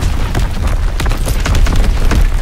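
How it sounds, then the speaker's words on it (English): Artillery strike explosion in the WWII shooter Call of Duty: WWII, a loud sustained barrage of deep booms and repeated blasts rumbling continuously, with sharp cracks punching through. "Blitz and explosion underway."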